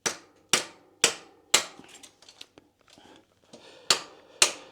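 Hammer blows drive a chainring-side e-bike torque sensor onto a Hollowtech II bottom bracket, with sharp metallic strikes in two groups, four then two, and quieter clinks and shuffling between them.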